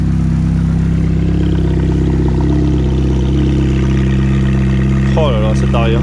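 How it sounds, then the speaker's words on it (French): A Ferrari F430 V8 engine idles steadily with its engine cover open, a loud, even low rumble holding throughout, joined near the end by someone speaking over it. "je vous ouvre également le moteur. Donc qui est en fonctionnement"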